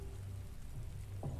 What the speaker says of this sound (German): So, erstmal ein bisschen Regen machen hier.